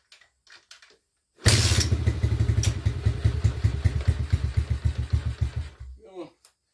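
A Kawasaki KLX110 dirt bike engine with the choke on starts up loud and close, settling into a rapid, steady single-cylinder chug with a few rev swells before cutting off abruptly.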